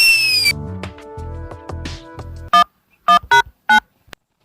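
A telephone being dialed to call a lawyer gives a string of clear keypad tones, first beeping under a low hum, then four separate sharp electronic bursts with short gaps between them.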